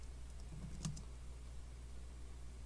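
Quiet typing on a computer keyboard, with a few soft, brief key clicks close by over a low background hum.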